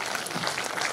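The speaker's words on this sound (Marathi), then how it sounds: "या माणसाला आपण सगळ्याकडून काय देणार आहे तर एक मुक्त हस्ते प्रचंड टाळ्या देऊत आपण" An audience at a public meeting in Maharashtra applauds to honour a speaker, a steady burst of dense clapping filling the whole moment with faint voices beneath.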